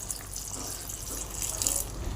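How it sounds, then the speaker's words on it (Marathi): Half a small pot of water is poured into a pressure cooker holding turmeric-seasoned vegetables for pav bhaji, a steady close splashing and trickling that runs throughout with no talk. "आणि आता याच्यामध्ये एक अर्धा तांब्या मी पाणी घालून"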